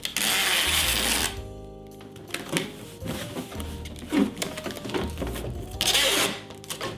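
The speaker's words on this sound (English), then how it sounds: "I can just tape this entire side shut" Packing tape pulled off the roll and pressed onto a cardboard box used to ship a painting, long loud screeching rips at the start and end with rustling and tapping between, close by.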